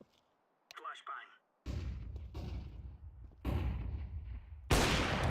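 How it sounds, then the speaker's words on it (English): Flashbang grenades burst in a tactical shooter video game, several loud sharp bangs in sequence, the last one a bright close blast, with brief game sounds between. "Flashbang."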